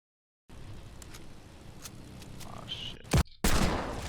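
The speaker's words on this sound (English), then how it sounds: "that was me with one single shot and a handgun" A single handgun shot in a video game, a sharp loud crack near the end over steady game ambience, followed by a second loud burst.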